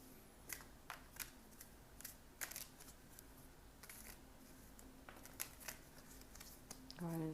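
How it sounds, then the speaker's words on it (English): Tarot cards are shuffled in a quiet indoor setting, giving a series of soft, irregular riffling clicks and snaps spread over several seconds, with a faint steady hum underneath. "Go ahead and shuffle the cards."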